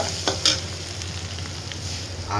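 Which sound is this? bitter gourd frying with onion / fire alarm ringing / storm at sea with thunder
bitter gourd frying with onion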